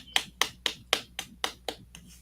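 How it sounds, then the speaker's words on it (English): Eight sharp hand claps in a steady, evenly spaced rhythm, close and fairly quiet, with no voices. "I'm clapping one more time."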